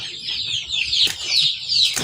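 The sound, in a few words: free-range chickens clucking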